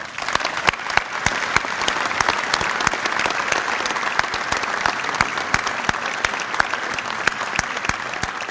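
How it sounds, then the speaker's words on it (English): A crowd at a round house dedication gives sustained, loud applause, a thick wash of many hands clapping with a few sharper claps standing out. "Please give them a round of applause."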